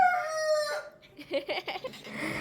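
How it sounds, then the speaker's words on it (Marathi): A rooster crows once, a drawn-out nasal call up close, followed by a few short clucking notes. "कोंबड्या वरड, तर तो कसा वरडतो पहा."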